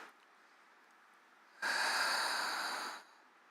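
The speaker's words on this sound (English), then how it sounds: "And I breathe." A single deep breath taken while seated during chair yoga, a soft hiss-like inhale or exhale lasting about a second and a half, close and clear against quiet room tone with no talking.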